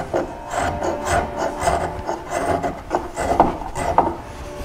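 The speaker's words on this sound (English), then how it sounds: "This is the round bottom spoke shave." A round bottom spokeshave shapes the trifid foot of a Queen Anne lowboy, each close, rasping wooden stroke rising and falling in a steady back-and-forth rhythm with no talk over it.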